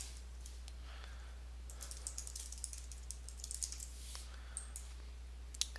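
Someone types a name on a computer keyboard: a quiet, irregular run of light key clicks over a steady low electrical hum, sparse at first and then quicker bursts near the end.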